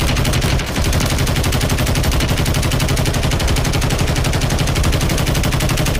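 Rapid automatic gunfire from the Warzone 3 video game, a dense, loud, unbroken stream of shots lasting the whole stretch, close and aggressive with no pauses.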